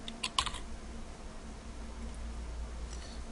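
A computer keyboard being typed on while entering an email address, a quick cluster of soft key clicks at the start, then faint scattered taps over a low room hum.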